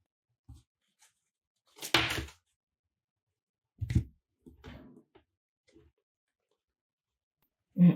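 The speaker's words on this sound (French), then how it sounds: "j'entends la porte du voisin qui se ferme" A neighbour's door closes somewhere nearby: a few separate dull thumps and knocks spread across a quiet room, one louder bang partway through and another right at the end, with no talking.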